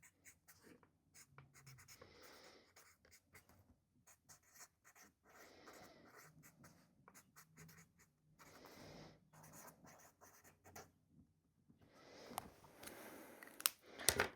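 An erasable friction marker scratches across paper in short, close strokes and scribbles, soft and intermittent, with a few louder taps near the end.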